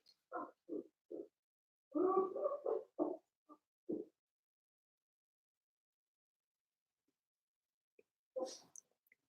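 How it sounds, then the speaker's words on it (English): A dog barks at the front door in a short burst of several quick barks, then falls quiet before one more faint bark near the end. "he goes and barks at the front of the door"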